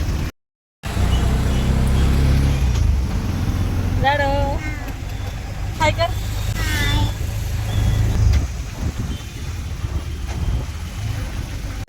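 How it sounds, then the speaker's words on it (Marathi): An auto rickshaw engine runs steadily through the ride, a low continuous drone heard from inside the cab, with people talking over it and high squeaks mid-way before it eases off. "मी रिक्षात बसलो आहे आणि रिक्षात बसले पण असं वाटतं विमानात बसलो"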